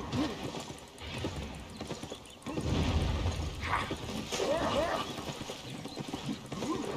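Horse hooves clip-clop in the online role-playing game Albion Online, a steady rhythmic trot under bursts of game effects and a few whinnying squeals, with a louder rumble in the middle.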